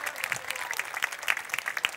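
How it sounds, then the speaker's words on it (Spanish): Scattered applause at a horse race trophy ceremony, with sharp individual claps from a modest crowd over a low background murmur. "Un aplauso."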